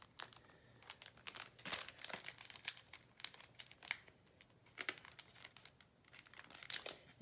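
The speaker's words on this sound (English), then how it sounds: "I'm just going to put this big one in here to separate out some of this" Sheets of clearance paper are handled and crinkled while being placed in a mini Happy Planner, producing close, irregular bursts of crisp rustling and crackling, quiet overall.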